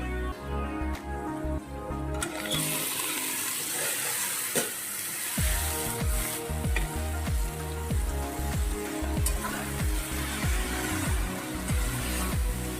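Leafy greens go into a pan of hot oil with fried garlic, and a dense, rain-like sizzle swells after a quieter start, with steady crackling and stirring throughout.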